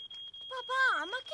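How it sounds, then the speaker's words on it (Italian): A smoke alarm set off by burnt toast gives a steady high-pitched electronic tone throughout, while animated voices talk over it. "Ho bruciato un toast e ho fatto scattare l'allarme antincendio."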